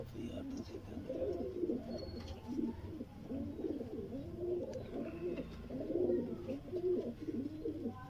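Sialkoti red-pearl pigeons, a breeding pair, cooing in low repeated throaty phrases, fairly close and continuous, with faint background noise and occasional chirps.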